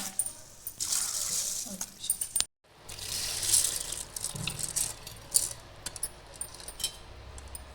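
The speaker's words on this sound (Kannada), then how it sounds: "ಈ ಥರ ಒಂದು ಚಾನಿ ತಗೊಂಡು ಇದರೊಳಗೆ ಹಾಕ್ಕೊಂಬಿಡೋಣ" Soaked jowar grains are tipped into a strainer, giving a scattered rattling patter of wet grain and dripping water at close range, with no talk.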